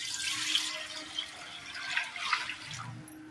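Water splashes and gurgles into a pot being set to boil for rice-flour papad dough, an uneven close pour with a few louder gushes and drips.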